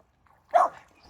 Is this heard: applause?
no